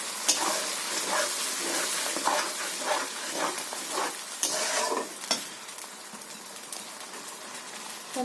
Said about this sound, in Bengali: বন্ধুরা মিক্সি খাওয়া জলটা আমি দিয়ে দিচ্ছি।